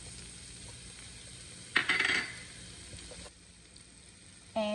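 Fresh celery and onions dropped into melted Kerrygold butter, a sudden sizzling burst that fades into a quieter simmering crackle, with a clatter of utensils near the close.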